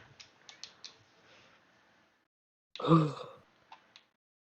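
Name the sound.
yawn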